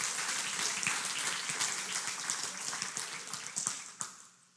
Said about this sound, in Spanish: Dele el aplauso fuerte al Señor.